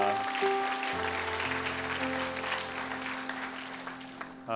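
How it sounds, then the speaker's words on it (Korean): Sunday worship congregation at a Korean church applauding in thanks, a sustained, fairly loud wash of clapping with sustained organ or keyboard tones underneath that fades out near the end. "우리 하나님께 감사의 박수 올리겠습니다."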